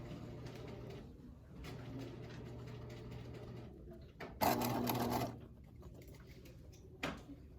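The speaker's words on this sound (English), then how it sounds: "And I'll top stitch around." Sewing machine topstitching around the seam of a fabric bucket hat, steady low mechanical whir in stretches with pauses, one louder faster burst of stitching midway, close and quiet.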